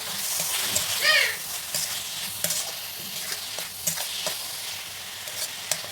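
Grated coconut being stirred and mashed with liquid date-palm jaggery in a pan, giving soft scraping and sizzling bursts at close range, with a voice talking over it.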